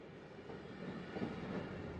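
A train rolls along its tracks in the video game A Memoir Blue, a soft, steady rumble with faint rhythmic clatter, quiet and continuous with no voices.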